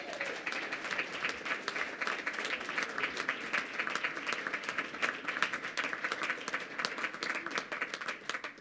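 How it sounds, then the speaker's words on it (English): Applause at a school board of education meeting as schools are congratulated, a sustained, moderately distant round of clapping with individual claps audible, steady from start to finish. "Yes, round of applause."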